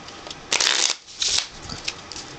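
Two quick bursts of playing cards being shuffled, crisp riffling rattles close by separated by a short pause, with faint handling noise after.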